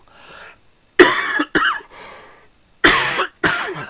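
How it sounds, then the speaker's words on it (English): Close, loud coughing in two pairs of rough hacks, with faint murmuring before and between them. "excuse me and my stupid cough"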